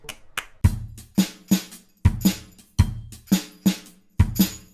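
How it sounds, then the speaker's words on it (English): A programmed drum beat layered with short, snappy hand claps, in a steady looping pattern of punchy low kicks and bright crisp hits, close and dry with no voices. "To really add an extra layer to these drums, I'm going to add some nice little claps."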